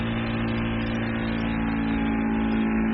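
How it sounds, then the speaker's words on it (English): The vacuum pump of an ST1520 3D sublimation press runs with a steady, close, even mechanical hum and whir that holds constant for the whole stretch, with no voices. "start the vacuum button."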